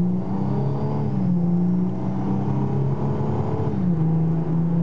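Ford Mustang V6 with Pypes dual exhaust pulling away from a dead stop, a steady loud engine drone rising in pitch, dipping at a gear shift and climbing again.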